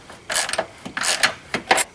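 Bolts being tightened on a Poison Spyder Jeep body-mount tire carrier, heard as three quick ratcheting bursts of metallic clicking, close and moderately loud.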